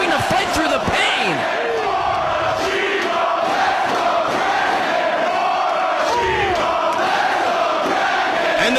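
A wrestling arena crowd roars and cheers during a world title match between Bryan Danielson and Morishima, sustained loud crowd noise with shouts and whoops throughout, alongside a commentator's voice.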